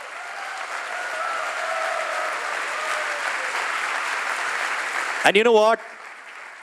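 Applause from an event audience for two guests, a continuous even clapping wash that carries on steadily, with someone speaking briefly over it near the end.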